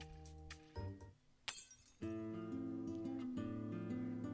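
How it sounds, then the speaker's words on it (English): Glass smashing into pieces in a game scene: a sharp crash and shattering burst rings out amid a loud musical soundtrack, with a few clinking hits before it. "The exquisite-looking glass was smashed into pieces near my feet."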